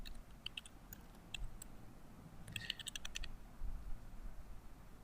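Quiet clicks of someone typing a name on a computer keyboard, irregular light keystrokes with a faster burst in the middle, close but faint against a soft room hum.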